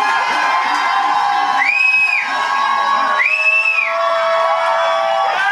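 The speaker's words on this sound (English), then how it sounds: "I need you to give me a big shout for Mr. Sean C." A live audience at The Lift Show in Birmingham cheers and shouts for Sean C. Johnson, a loud, sustained crowd roar with two long rising whoops swelling above it.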